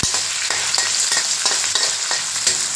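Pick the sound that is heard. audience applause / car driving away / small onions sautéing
small onions sautéing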